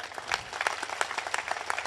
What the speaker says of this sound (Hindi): हम सब शुभकामनाओं की एक बार जोरदार तालियां देकर